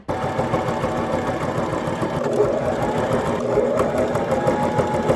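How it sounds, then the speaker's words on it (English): A sewing machine runs steadily while hemming the bottom ruffle of a shirt made from an old sheet, giving a continuous close mechanical whir with no talking over it. "now we're gonna hem the bottom ruffle."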